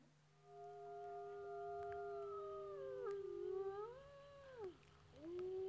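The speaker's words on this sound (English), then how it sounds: "so that's the sound of the wolf" A wolf howl plays from a recording, long rising and falling wails with smooth pitch slides that repeat several times over a steady low hum, fairly clear and unaccompanied by talk.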